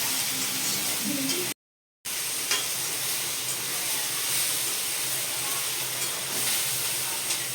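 Ivy gourd frying in a pan for a chutney gives a steady, close sizzle with soft hissing and stirring, broken by one brief gap of silence.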